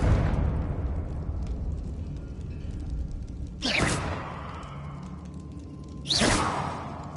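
Confringo fire spell in Hogwarts Legacy: two separate whooshing blasts a couple of seconds apart, each a sudden burst that fades out, over a low rumbling background.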